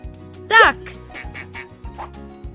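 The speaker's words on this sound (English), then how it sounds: "it's a duck" A single loud, nasal duck quack rings out clearly over light background music with a steady beat, followed by quieter murmurs.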